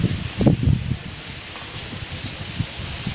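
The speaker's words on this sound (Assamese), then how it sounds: "বহুত ধুনীয়া বতাহ মাৰি আছে" Wind rustles through leaves on a cloudy day in Assam, with a few stronger gusts near the start, then a softer, steady rustle punctuated by faint low thumps from wind hitting the microphone.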